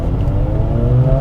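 A Dodge Challenger Scat Pack engine revs loud and close in a short, steady, deep roar with no voices.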